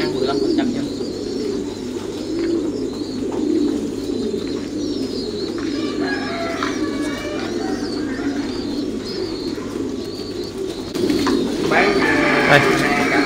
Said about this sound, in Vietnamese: đây là các dãy bồ câu đây.